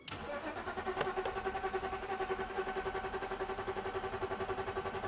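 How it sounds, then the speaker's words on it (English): A BMW E39 engine cranking without catching after a fuel pump replacement and with a faulty injector: a steady, rhythmic starter-motor churn with even pulses, close and continuous, never firing into an idle. "But now the engine should start, right?"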